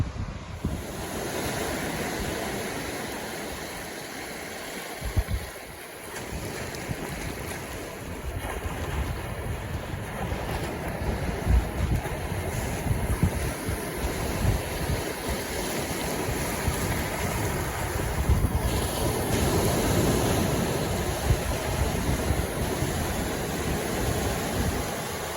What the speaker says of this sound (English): Hammock Beach, tide on the way out